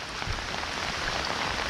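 Rain falls steadily on a high hillside, a soft, even patter and hiss with scattered drops striking nearby surfaces; fairly quiet and continuous, with no voices.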